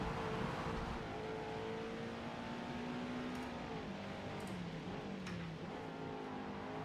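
Steady drone of a race car engine on the Hockenheim circuit at night in the video game Forza Motorsport, holding a sustained pitch that dips and climbs slightly, moderately quiet with no talking.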